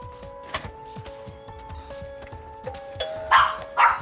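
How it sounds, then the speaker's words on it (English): A two-note ding-dong doorbell rings at a front door near the end, loud and clear, after a quieter stretch of household sounds with dogs nearby. "I stationed someone outside the door to ring the bell"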